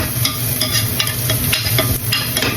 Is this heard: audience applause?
no